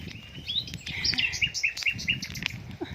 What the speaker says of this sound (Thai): เสียงนก เสียงกา